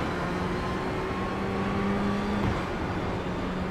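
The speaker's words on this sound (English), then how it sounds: "There's a faster car approaching." A steady engine drone fills the whole stretch, a race car's whine in the iRacing game at Le Mans holding pitch and growing slightly louder as it nears, with no talking.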